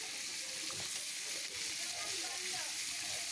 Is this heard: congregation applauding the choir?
no